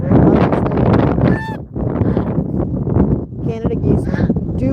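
Canada geese kept as pets in Texas honk in short nasal calls, scattered through a loud, rough wash of wind and outdoor noise.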